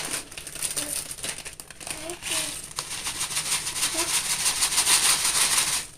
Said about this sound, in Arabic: بس نفتح الكيس